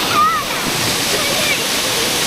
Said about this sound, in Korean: 잠시 폭포멍을 때렸고요.